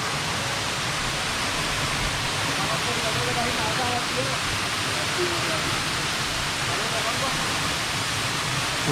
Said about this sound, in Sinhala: හෝන් තැන්න පැත්තේ එන වතුර පාරක් තමයි මේ පොඩ ලොකු වෙලා එන්නේ